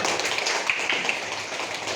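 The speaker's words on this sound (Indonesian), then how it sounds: "Tepuk tangan buat kalian." A classroom of students gives a round of applause, light scattered claps running steadily for a couple of seconds with little talk.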